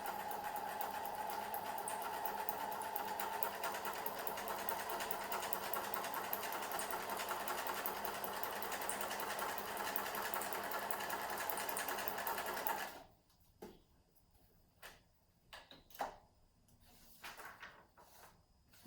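A sewing machine runs steadily for a long stretch, a continuous close mechanical whir, then stops, leaving a few soft clunks and handling noises.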